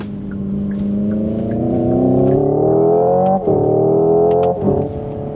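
A synthetic engine tone from a 2025 Hyundai IONIQ 5 N electric car rises smoothly in pitch like a car accelerating, loud and continuous, briefly dipping twice as if shifting gears.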